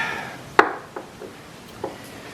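Wood being split with a Thai farmer's knife driven by a mallet: one sharp, loud knock followed by three quieter taps spaced unevenly, close by in a quiet setting.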